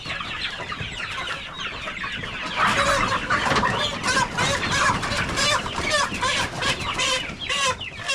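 A crowded flock of chickens on a poultry farm, clucking and squawking continuously, with dense overlapping calls growing louder and busier partway through and staying close and steady to the end.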